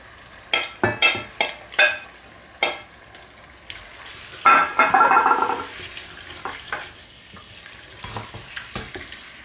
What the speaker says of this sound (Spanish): Y ahora rehogamos los calamares también